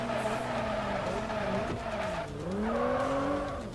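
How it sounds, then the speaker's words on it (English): A car in Forza Horizon 2 braking hard with ABS: engine tone sliding down in pitch with tire squeal and skidding, then revving back up, close and loud, with no talk. "braking with ABS"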